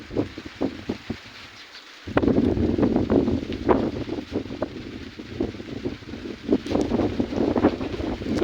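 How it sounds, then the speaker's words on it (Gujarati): Strong wind blows during rain: a steady, broad rushing with gusty rustling bursts, growing louder after the first couple of seconds and holding, with no voices. "અને પવન અતિ પ્રમાણમાં ચાલુ છે. તમને જો કે અવાજ આવતો જ છે પવનનો."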